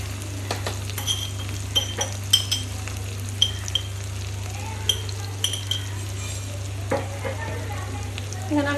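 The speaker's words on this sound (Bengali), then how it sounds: "আমি এবার ভালোভাবে নেড়ে নেব।" Softened onions are stirred in a frying pan, giving a soft continuous sizzle broken by scattered light clinks of a utensil against the pan, over a steady low hum.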